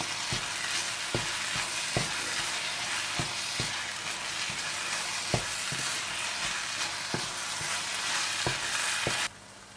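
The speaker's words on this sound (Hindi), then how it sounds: "इन्हें डालकर अच्छी तरह से मिक्स कर लें और थोड़ा सा और भून लें।" Minced meat keema fries in a karahi with crushed black pepper, cumin, kasuri methi and crushed red chilli, giving a steady close sizzle broken by sharp spoon scrapes and taps against the pan.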